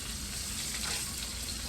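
A thick steak burger patty fries slowly in a pan over low heat, giving a soft, steady sizzle that stays faint and even, with no talking.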